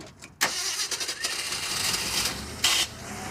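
A Ford Ranger truck engine with a mechanical fuel pump cranks with a sharp burst and catches, settling into a steady, close running rumble with another brief loud surge near the end; no voices over it.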